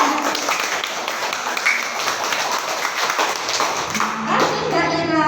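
Classroom applause for a student: a steady wash of many hands clapping at once, fairly loud, fading toward the end as a voice begins to speak.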